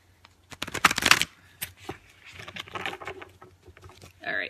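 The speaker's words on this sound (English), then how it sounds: "let's go ahead and shuffle these" A deck of tarot cards is shuffled close by, giving a dense burst of riffling flutter and then scattered softer slaps and rustles as the cards settle, with a short breathy sound at the end.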